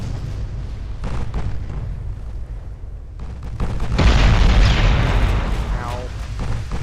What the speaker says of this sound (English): Really broke my big battleship. Torpedo hit.